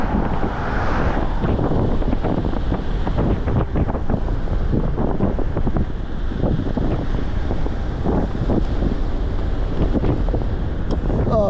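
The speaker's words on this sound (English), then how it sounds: "of course we're gonna get wind." Steady, loud wind buffets the microphone on a mountain top during an e-bike ride near Haledon and Hawthorne, New Jersey, a constant blustery rumble with no letup.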